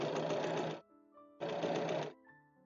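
A sewing machine stitches a stretch velvet bodice with a zigzag stitch over gathering, running in two loud, steady bursts with a short pause between them.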